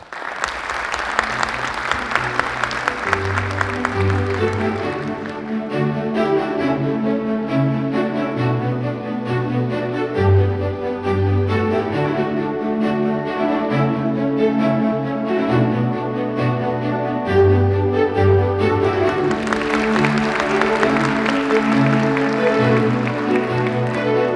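Sustained audience applause at a library week award ceremony, loud and continuous clapping from a large crowd with music playing underneath throughout.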